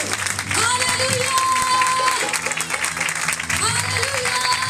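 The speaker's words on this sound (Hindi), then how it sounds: "जोरदार तालियां मेरे यीशु के लहू के लिए" Congregation applauding at a Hindi-language Christian worship service, a sustained wash of hand-clapping from a large crowd under music and a voice.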